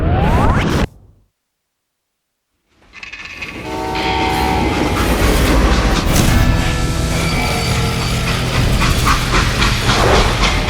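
A freight train rumbles and clatters steadily after a brief burst of sound and a short silence, with a dense mechanical roar and faint horn-like tones, from the video game Call of Juarez: Gunslinger.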